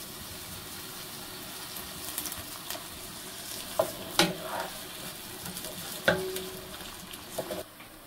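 Onions frying in oil for chola bhuna hiss quietly and steadily while a spatula is stirred through them, with occasional sharp scrapes and clinks against the pan and no voices.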